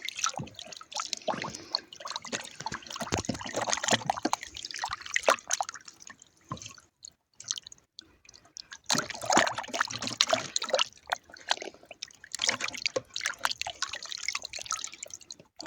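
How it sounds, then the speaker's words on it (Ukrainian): Water splashes and drips in bursts close by, with sloshing and trickling as small crucian carp are rinsed by hand, pausing briefly between rounds. "Наливаємо воду, гарненько вимиємо."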